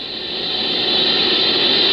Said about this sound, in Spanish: Pero la Horn Antenna que utilizan recibe constantes interferencias.